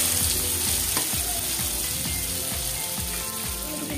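Vegetables and ghee are stirred in a kadai for vegetarian fried rice, a steady frying sizzle overlaid with repeated rhythmic scraping strokes of the spatula against the pan, close and continuous.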